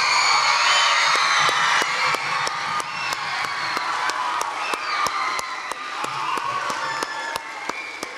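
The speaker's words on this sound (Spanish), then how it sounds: "fuerte el aplauso para los profes" An audience at a primary school diploma ceremony in Buenos Aires applauds the teachers, with continuous clapping, cheers and whoops and a few sharp claps standing out, lasting the whole stretch.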